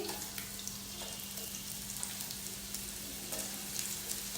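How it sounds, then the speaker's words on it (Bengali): Chopped onion frying in about half a cup of hot oil for beef khichuri, a steady soft sizzle with faint crackles throughout, fairly quiet and close, with a low constant hum underneath. "তেলটা গরম হওয়ার পর দিয়ে দিব এখানে পেঁয়াজ কুচি"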